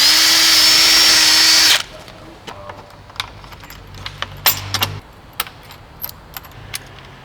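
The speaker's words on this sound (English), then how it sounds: "you're going to want to drill another couple of 8mm holes" A power drill whirs loudly for about two seconds while drilling 8mm holes to fit a front splitter kit on a 2018-2020 Hyundai i30N hatch, then stops, followed by metallic clinks and rattling of tools and small parts.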